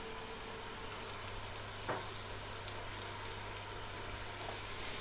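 Ginger and garlic sauté in hot oil in a pan, a faint, steady sizzle with one brief scrape partway through and no voices.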